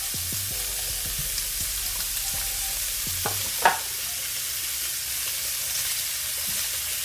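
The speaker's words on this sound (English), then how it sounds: "Got a little olive oil in the pot, and start adding in some sausage. Get them browned up." Sausage frying in a little olive oil in a pot over medium heat, a continuous close sizzle with a few soft knocks and one sharper clatter as the pieces are moved around.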